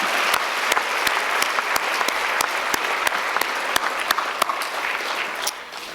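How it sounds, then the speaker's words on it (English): An audience at a county education awards ceremony gives a big round of applause, steady crowd clapping with a few sharp, close individual claps punctuating it, easing off just before the end. "let's give them a big round of applause."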